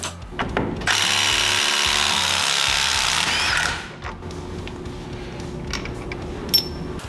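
A power tool, likely an impact gun, spins off the wheel and CV nut on a Honda Talon side-by-side, with one loud, close, continuous whir of about three seconds, then clinks and rattles of parts.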